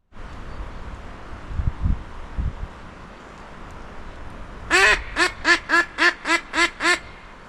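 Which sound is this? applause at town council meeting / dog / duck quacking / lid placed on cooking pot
duck quacking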